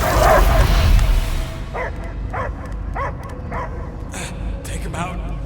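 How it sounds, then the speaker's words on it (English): Dogs bark repeatedly in Marvel's Guardians of the Galaxy video game, a series of evenly spaced yips and barks over a steady background rumble, following a loud opening swell of game sound. "I hear only barking."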